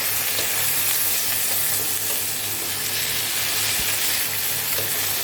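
Drumstick stalks and vegetables for Bengali shukto frying in a pan while being stirred, a constant close sizzle with soft scraping of the spoon, steady and loud with no talk.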